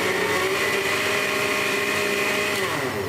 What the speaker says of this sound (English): And next, we're just going to blend this up. Now, this is going to be loud for a little minute.